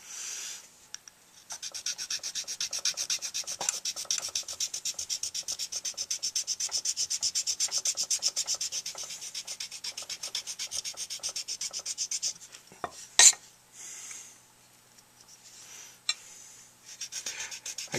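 A hand file rasps steadily against a tenor saxophone mouthpiece in long continuous strokes, close up and fairly loud, then stops before a brief knock and a few lighter scrapes.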